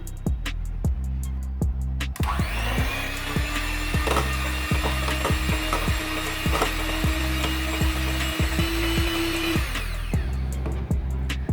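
An electric hand mixer beats a strawberry ice cream mixture, droning loudly and steadily with a rising motor whine and regular rattling clicks of the beaters against the bowl, no talking.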